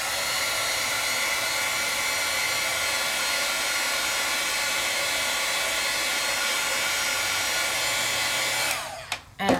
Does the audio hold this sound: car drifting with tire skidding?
no